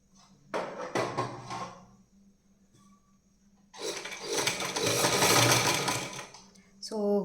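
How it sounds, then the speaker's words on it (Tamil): A sewing machine stitching a bias strip onto a neckline, short whirring bursts close by, then a longer steady run of stitching, with a voice speaking before it starts. "இந்த எட்ஜில் வச்சுட்டு நம்ம ஸ்டிச் பண்ண ஆரம்பிச்சிக்கலாம்"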